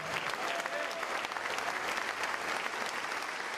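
A church congregation applauds in unison, a dense, sustained roar of clapping at steady volume from start to finish, with faint voices mixed into the crowd.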